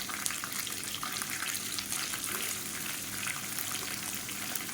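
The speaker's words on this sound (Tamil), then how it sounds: "இப்போ கடுகு உளுந்து நல்லா வெடிக்க ஆரம்பிச்சிருச்சு" Mustard seeds and urad dal splutter in hot oil alongside frying onions, a steady dense crackling sizzle that holds close and even throughout with no voices.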